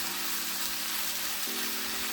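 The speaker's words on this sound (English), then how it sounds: "now we can add in our mushrooms and really get this thing frying." Mushrooms, onions and garlic fry in a hot pan, a close, steady sizzling hiss that runs unbroken throughout with no voices.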